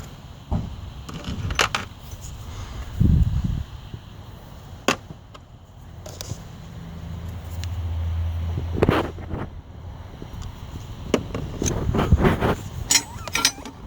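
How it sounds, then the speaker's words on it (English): Screws are removed from the EGR valve of a 1.6 16V VW Golf Mk4 with hand tools, giving scattered metallic clicks, ratchet ticks and a few knocks up close, with quiet gaps between them. "Remove those two screws."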